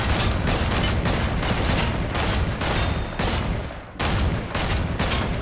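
Dense, continuous gunfire in the Fortnite battle royale video game, Chapter 3 Season 2, loud and close, with rapid bursts and short dips layered into a constant wall of shooting and no talk.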